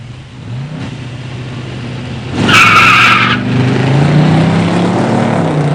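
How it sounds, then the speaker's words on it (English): A drag race between a 1969 Pontiac Grand Prix 428 HO four-speed and a 1970 Grand Sport Stage 1 automatic: engines revving close by, a sharp tire screech at launch, then a sustained roar as the cars pull away. "In the near lane, Mike Banaszak, 69 Grand Prix 428 HO 4-speed. In the far lane, Bill Wills in a 70 Grand Sport Stage 1 automatic"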